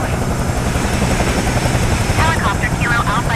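A Bell 222B helicopter in flight, its loud steady rotor and engine roar filling the cabin throughout, with faint radio chatter over the top near the end.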